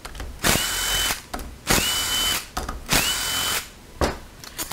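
A power drill fitted with a 7 mm socket spins out transmission bolts in close, loud bursts, with three longer whirring runs broken by short clicks and pauses and a final short burst, and no voices.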